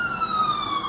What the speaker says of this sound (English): you wait for the ambulance to pass